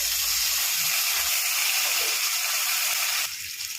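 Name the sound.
potatoes frying in oil in a wok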